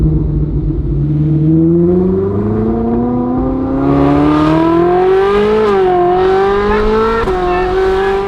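A Ferrari 458 fitted with a Kline Inconel exhaust revs loudly up through the range, the pitch climbing steadily with sharp blips and a brief drop near the end, heard close and alone.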